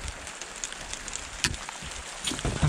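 Outdoor rain during dumpster diving patters steadily as a constant hiss near a GoPro camera, broken by a few sharper taps and knocks.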